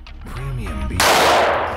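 A Staccato DVC 9mm pistol fires into a ballistic vest, producing a single loud, sharp report with a lingering decay that follows some brief low background sound.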